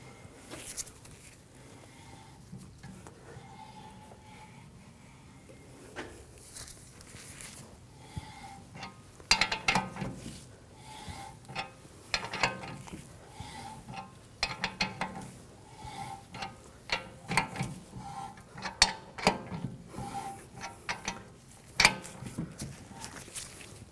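Clicking ratchet and mechanical creaks as a wheel bearing press tool is tightened on a BMW 328i rear knuckle, the bearing being drawn in; irregular close clicks and taps in a quiet workshop.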